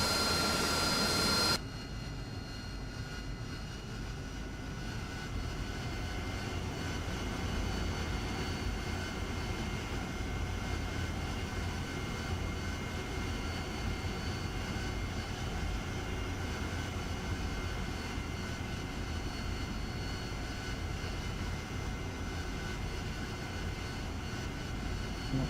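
A jet aircraft takes off in the DCS flight simulator game, with a loud, steady engine roar and whine holding for about twenty-five seconds after a brief louder burst at the start, with no voices.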